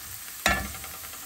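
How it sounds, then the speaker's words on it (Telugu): Onions hit hot oil in a HexClad fry pan with a sudden burst of sizzle that fades quickly over a quiet kitchen background, with no one speaking. "ఫస్ట్ కొంచెం ఉల్లిపాయలు ఫ్రై చేస్తాను"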